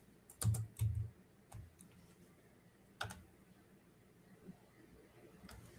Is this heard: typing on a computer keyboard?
yes